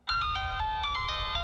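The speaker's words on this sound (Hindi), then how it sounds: "फोन उठाओ।" A telephone ringtone plays alone at steady volume, a repeating electronic melody of bright tones that starts abruptly and continues through the short span.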